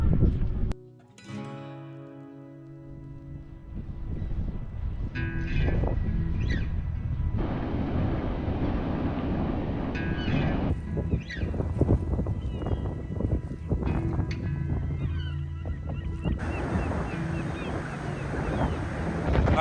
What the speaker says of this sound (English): I know it's super windy, so you're not getting great audio right now